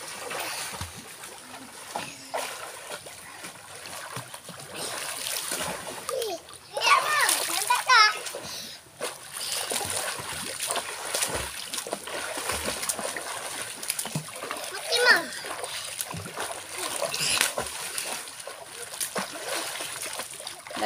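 Children swim and splash in a stream, water slapping and splattering in irregular bursts close by, with a louder flurry of splashing midway, while kids chatter and call out throughout.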